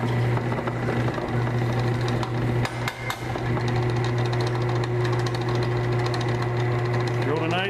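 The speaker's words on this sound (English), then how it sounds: "Drilled a nice hole." A Harbor Freight 10-inch 12-speed drill press runs with a steady motor hum while a few knocks and clatters sound as it drills a hole, close and under a speaking voice.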